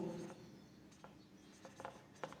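Marker or chalk scratching on a board during a physics lesson, short faint strokes and squeaks spaced irregularly, quiet with room hum beneath.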